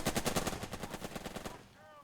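Video game gunfire from the World War era tactics game Burden of Command, with a rapid string of rifle and machine gun shots in a regular burst that rattles on, then fades into a quieter tail.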